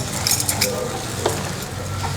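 Khoya kheer being stirred in a pan, a soft continuous sizzle with light spoon scrapes and faint utensil clinks, close and brief, without speech.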